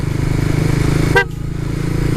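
A single short motorcycle horn beep sounds over a steady idling engine rumble of a Suzuki Raider 150 FI, close and clear.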